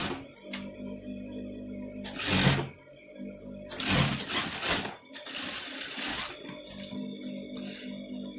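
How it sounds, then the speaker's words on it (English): Sewing machine stitching Owoko fabric half an inch down, several bursts of rapid mechanical whirring separated by brief pauses and faint clicks, close and moderately loud. "You're sewing half inch down."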